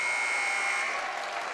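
An end-of-quarter buzzer at a girls' high school basketball area finals game: a loud, steady electronic tone holds for nearly a second, then cuts off, leaving the crowd's noise in the gym.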